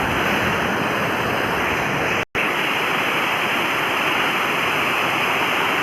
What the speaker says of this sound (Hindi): पूरा आपको पत्थर है, इसके ऊपर से नदी जा रही है।